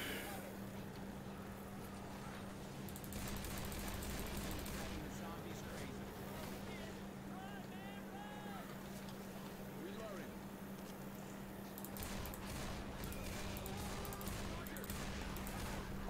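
Scattered bursts of zombie-shooter gunfire from Left 4 Dead 2, at a carnival, crackle faintly in the background while a person talks over a steady low hum.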